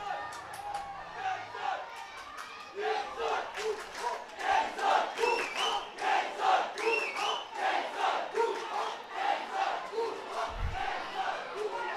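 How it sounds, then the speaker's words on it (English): Spectators at a 2019 Royal College versus Kingswood College first XV school rugby match roar and chant in rhythmic waves, a large crowd cheering loudly with overlapping shouts and whoops. "The crowd going crazy"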